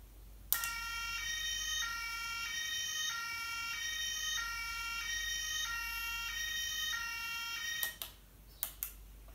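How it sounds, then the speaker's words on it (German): A toy police car siren plays a steady repeating two-tone electronic wail, loud and close, running alone for about seven seconds before cutting off, followed by a few sharp clicks. "Das ist ein Polizeiauto. Das kann wie eine Polizei sein Martinshorn anmachen."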